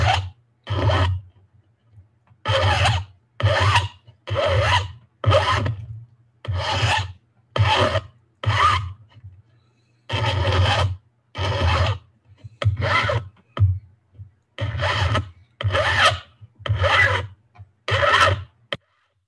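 Brass and copper dress hooks are filed by hand in steady, rasping strokes, each lasting about half a second with short pauses between, close up and with no talk.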